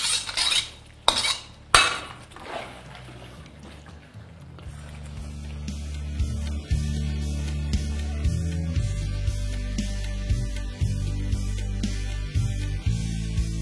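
Dry chilli chicken tossed with spring onions in a pan: sharp metal spoon clanks at first, then a continuous scraping, stirring rumble with occasional knocks, close and fairly loud.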